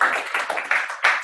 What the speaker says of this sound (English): Applause for the brave.